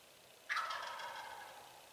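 A single loud wild turkey gobble bursts out and rattles on for over a second, ringing clearly against a quiet outdoor background during a Wisconsin spring turkey hunt.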